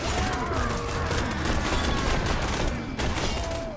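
Gunfire from the video game Borderlands 2 rattles in dense, sustained bursts at moderate loudness, with rapid shots overlapping in a continuous firefight.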